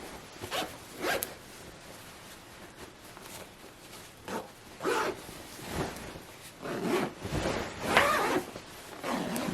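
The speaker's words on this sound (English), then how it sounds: "I'm gonna zip it up." A zipper on new bedding for a Class B RV campervan is pulled closed in several rasping strokes, close up and moderately loud, each pull a short scratchy burst with brief pauses between.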